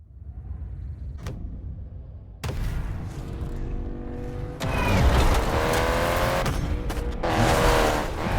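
A Honda S2000 roadster's VTEC engine revving toward 9,000 RPM in the racing game Need for Speed Payback, rising in loud, continuous stages, with a harsh, high-revving roar building and holding near the end and no talking.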